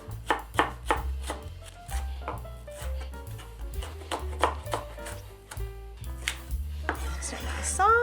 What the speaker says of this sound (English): I'm just going to slice these long ways into strips